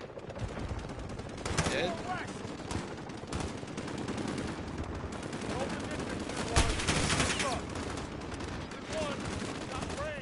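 Rapid bursts of automatic gunfire and scattered shots crack through a Modern Warfare firefight, loud and dense with a sharp blast near the middle, while a player talks briefly over the shooting.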